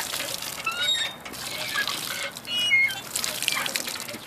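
Water pumped by hand and splashing outdoors while a small child plays: continuous bright gushing and spattering with small drips, fairly close and steady, with no talk over it.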